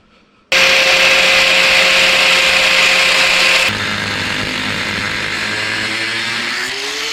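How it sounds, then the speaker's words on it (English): A new power drill with a fresh bit runs loudly and steadily while boring a hole during a polycarbonate plate install. The pitch drops partway through as the load changes, and there is no talk. "Got a good drill bit. Power drill, new too."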